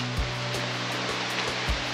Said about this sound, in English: We can hear water now, which means we're very, very close.